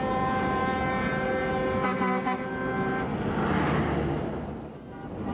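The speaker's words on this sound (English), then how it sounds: "Before long, it was bumper-to-bumper traffic on the bridge." Bumper-to-bumper traffic crawls across a newly opened bridge. Sustained car horns blare over a dense rumble of engines, and the honking gives way to a rushing traffic wash.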